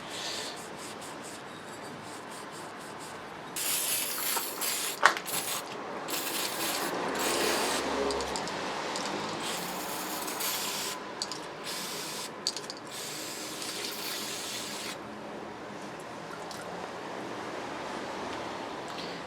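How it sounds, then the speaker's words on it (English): Bursts of aerosol solvent spray hiss onto a Suzuki GSX-R motorcycle water pump to clean out old grease, in several close spurts separated by pauses, with a few small clicks and scrapes between. "Just using like a solvent to kind of clean out any old grease."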